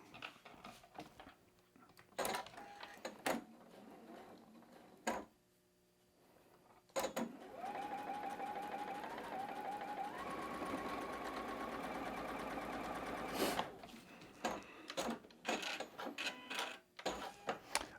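A sewing machine stitches quilt block pieces in a long steady run, bracketed by short start-stop bursts and clicks of fabric handling, with a brief silent pause before the sustained stitching.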